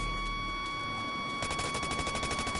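Rapid automatic gunfire in the shooter game Blacklight bursts into a fast, even stream of close, loud shots after a short lull, over a steady electronic hum.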